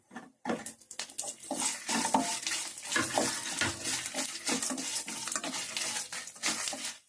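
Dried red chillies, cumin seeds and garlic sizzle and crackle in hot oil in a pan for mint chutney, a dense steady frying hiss with intermittent stirring scrapes close up, no talking.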